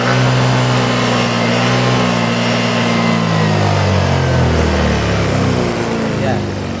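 A Yamaha Fazzio scooter engine with a fuel pump fault revs loud and close, its pitch climbing and then sagging as the engine loses power, with a voice talking over it.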